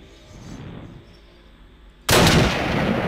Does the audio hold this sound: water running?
no